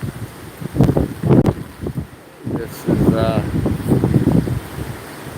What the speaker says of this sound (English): we're getting some of the big gusts right now, as you can see and likely hear